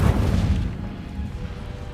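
An Incendio fire spell cast in Hogwarts Legacy erupts as a loud low whoosh and rumble that is strongest at the start and slowly fades to a steady roar, with no talk.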